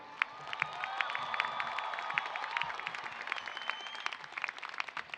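A university commencement audience cheers and applauds, with a broad wash of clapping under whoops and shrill shouts that swell and then thin out as the clapping turns ragged.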